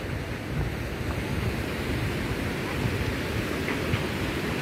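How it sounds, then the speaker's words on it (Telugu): Mountain water at Amarnath rushing and crashing down the slopes, a continuous loud broadband roar with constant rough wind noise on the microphone. "చూడండి నీళ్ళు పర్వాల్లో కొట్టుకుంటూ ఇట్లా వస్తున్నాయి"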